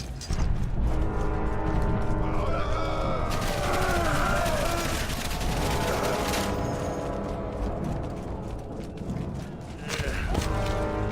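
Gunfire in Valiant Hearts: The Great War, a First World War battlefield, crackles in dense bursts against a steady droning background, with sharp bangs near the start and end.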